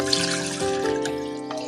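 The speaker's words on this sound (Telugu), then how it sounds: "దీంట్లో కొన్ని వాటర్ కూడా యాడ్ చేసుకుందాము." Water poured into milk in a pot, splashing and gurgling in a close, continuous stream with brief bursts of bubbling.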